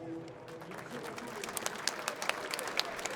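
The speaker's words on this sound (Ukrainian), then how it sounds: "Ваші оплески." Applause from a crowd at a combat sports fight event, fairly faint and distant, with scattered sharper claps standing out and voices mixed in.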